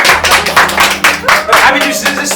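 A group claps steadily to celebrate a family's new house. The applause is loud, close and continuous, with voices mixed in.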